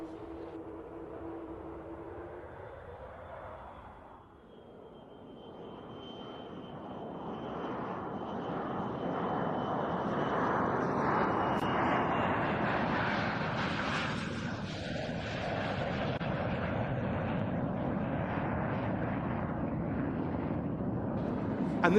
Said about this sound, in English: the Lockheed U-2S.